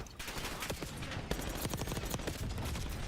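Rapid bursts from a Grekova automatic pistol in a Call of Duty match, dense, sharp shots firing in quick succession for about three seconds.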